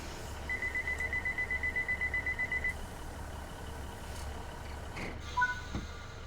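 A rapid series of about fifteen short electronic train door beeps in a train simulator video game sounds over a low engine hum, then stops, leaving the hum and a few clicks.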